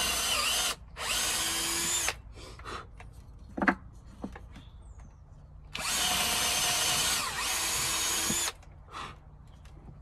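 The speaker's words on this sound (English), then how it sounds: "Grab our drill again." Power drill boring two holes in wood while building a bench hook: two loud whirring bursts separated by quiet handling clatter and small knocks.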